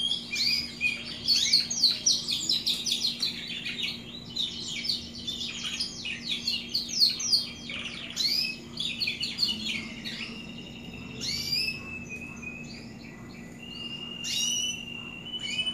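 Young Timbrado canaries chirp and warble in rapid, bright bursts of trills, close and lively, over a faint steady background hum.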